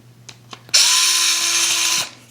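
A Fanttik Nex S2 Pro electric screwdriver drives small screws in a DIY project, the bit slightly too large. It spins in one steady, close whine of about a second and a half, with faint handling clicks before it starts.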